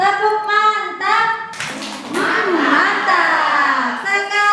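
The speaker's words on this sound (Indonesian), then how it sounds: "Oh, tepuk mantap, Bu ya, request tepuk mantap katanya." A group of teachers performs a rhythmic clapping chant, sharp hand claps alternating with voices calling out in unison, lively and close, with singing-like talk running through most of it.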